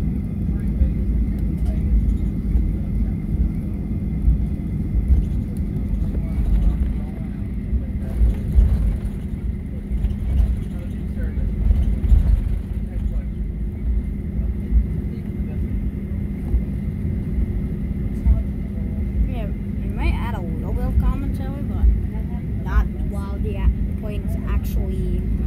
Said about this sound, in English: we are currently on Boeing 737-900ER, which is Delta Flight 2965. And this will be the takeoff video, taxiing and takeoff video.